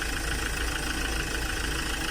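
A Hyundai H-100 van's D4CB diesel engine, freshly overhauled, runs steadily at idle nearby, a continuous low rumble with no talk over it.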